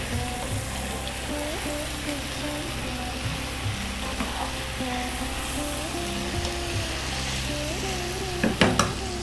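Chili- and turmeric-coated spices for chicken curry sizzle and fry steadily in a pan while being stirred, a continuous crackling hiss with small scraping clinks and a brief louder clatter near the end, no talking.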